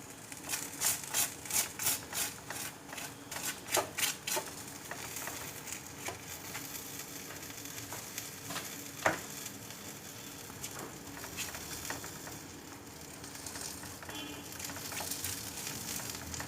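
Gözleme flatbread made from a single sheet of yufka fries in a hot pan with a steady, close sizzle and crackling, plus a few sharper taps early on. No one speaks.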